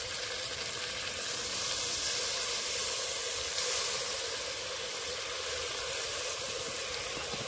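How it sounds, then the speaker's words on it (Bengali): Ground cumin and dried red chili paste fry in hot oil, with the water used to rinse the spices poured in, for an egg and soyabean curry. The sizzle is steady, loud and dense with crackling, and it continues without any talk over it. "এবার দিয়ে দেবো জিরে বাটা, শুকনো লঙ্কা বাটা, মশলা ধোয়া জল দিয়ে দেবো।"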